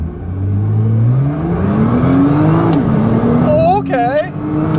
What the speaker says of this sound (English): All right, so I'm gonna do a 0 to 60 here. Let's just floor it and see what happens.